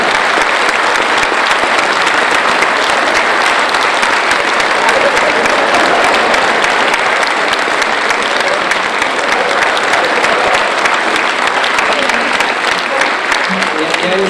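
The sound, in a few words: audience applause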